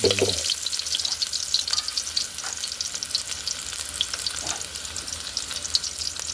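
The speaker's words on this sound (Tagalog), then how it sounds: "Nagisa na po yung sibuyas." Onions sautéing in a pan, a steady close sizzle and crackle of frying with occasional scraping stirs, continuous throughout.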